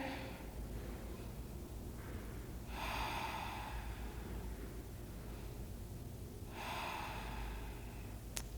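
Two slow, deep breaths during a yoga flow, each drawn in and let out in a long airy rush over a steady noise floor, close and soft, with no speech.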